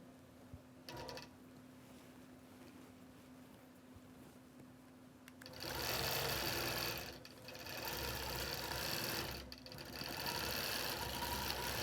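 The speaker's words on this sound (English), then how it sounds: "And Linda, this is how I do freehand on the Statler" A Statler longarm quilting machine stitches freehand, starting quietly and then running in loud sustained bursts of rapid mechanical whirring with short pauses between them.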